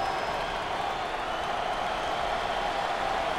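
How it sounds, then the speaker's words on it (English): Dense, steady roar of a basketball arena crowd at an NIT Round of 16 game between Utah and Iowa, fans cheering and clapping continuously after a foul, loud and unbroken with no single voice standing out. "Listen to this crowd. Oh, there's all kinds of people standing and cheering and going wacky."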